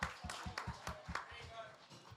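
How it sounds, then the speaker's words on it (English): Scattered clapping from a small group, about eight or nine distinct claps in a loose rhythm, close and fairly loud, with voices talking over it. "An applause again"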